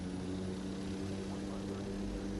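An airliner powers up for takeoff in the Airline Commander flight game, a steady, loud engine drone with low tonal hum that holds unbroken and fairly even across the whole moment.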